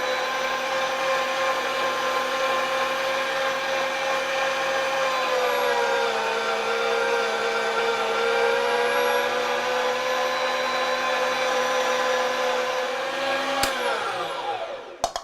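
An electric meat grinder grinding ribeye and tenderloin, with a steady, loud motor whine whose pitch dips slightly as the meat feeds through, then winds down when switched off at the end.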